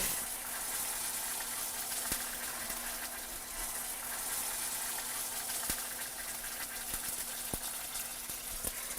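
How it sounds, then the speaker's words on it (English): Water runs steadily into a glass jar in a home kitchen, a continuous broadband gush at moderate level with a faint hum beneath and no talking. "I filled this jar halfway with water"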